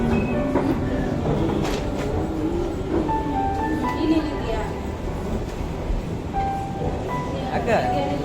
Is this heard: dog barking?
no